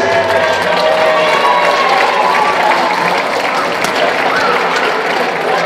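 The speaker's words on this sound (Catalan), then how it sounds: "Un altre aplaudiment ben fort per ells." A village crowd at a Catalan town festival applauds and cheers loudly for dancers who have just performed, a dense, continuous roar of clapping close by with a faint tonal hum early on.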